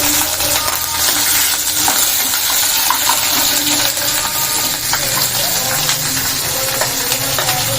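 Cumin and mustard seeds sizzle in hot oil for a tempering, a loud continuous crackle with small popping ticks and the occasional clink of a utensil.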